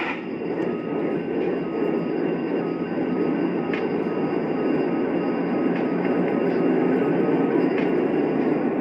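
A Lionel model train runs steadily along its track, a continuous rolling rumble with faint metallic clicks, close and moderately loud with no talking.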